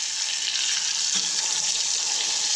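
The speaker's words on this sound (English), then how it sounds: "Oh, there's the sizzle. That's how it should sound." Loud, steady hiss of oil sizzling as a northern snakehead fillet deep fries, a dense continuous crackle without pauses or speech.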